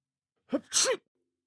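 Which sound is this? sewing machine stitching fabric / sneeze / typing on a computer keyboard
sneeze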